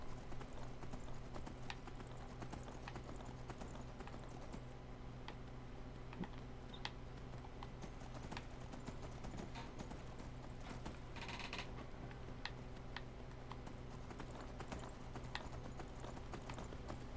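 Horse hooves clopping in a quick, steady galloping rhythm in the video game Skyrim, faint and continuous over about seventeen seconds with light clicking alongside.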